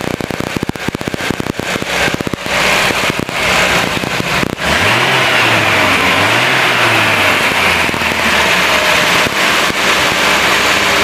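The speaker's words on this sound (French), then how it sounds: "si j'accélère le véhicule" A car engine, idling while its battery and alternator are tested, is revved up in two rising and falling sweeps, loud and close, after a stretch of dense crackling clatter.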